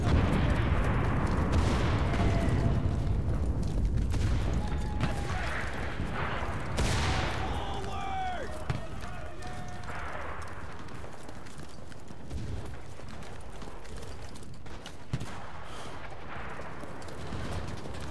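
Artillery barrage in the World War II shooter Enlisted: dense rumbling blasts and crackling gunfire roll continuously, loud at first and easing slightly, with distant impacts and battlefield clatter throughout.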